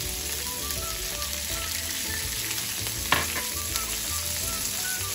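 Spinach and minced garlic frying in olive oil over high heat, a constant close crackling sizzle with a sharp spatter or utensil knock midway, no talking.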